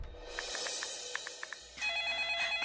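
Telephone ringing for an incoming call, a series of short trilling rings repeating, followed by a louder different ringtone tone near the end, fairly close and clear with no talk.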